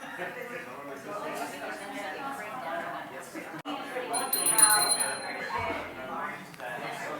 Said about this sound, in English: I'll just sort of ring the bell in about 5 or 6 minutes